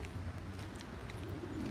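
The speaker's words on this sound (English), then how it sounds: "Is that a bird?" A bird gives soft, pigeon-like cooing outdoors, faint and somewhat distant over steady background noise.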